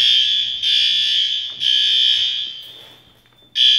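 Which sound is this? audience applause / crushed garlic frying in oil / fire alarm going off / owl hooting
fire alarm going off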